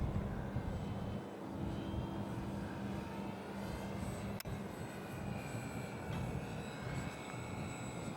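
A Durafly P-51 Mustang 1100mm RC model airplane drones steadily as it comes in to land on a windy day, its electric motor whine held under heavy, constant wind rumble, with one sharp click midway.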